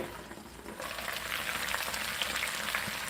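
Potatoes fry in a covered pan, a steady broadband sizzle that holds evenly throughout, muffled slightly by the lid, with no talking.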